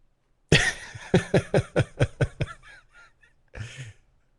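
A person coughs and clears their throat in a rapid run of harsh bursts, close up, then one final rasp after a pause.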